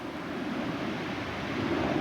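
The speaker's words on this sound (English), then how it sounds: "Here's Jenny in the Pacific Ocean water" Pacific Ocean surf breaks along the shore in a steady, close rushing wash, with wind noise buffeting the microphone and no voices.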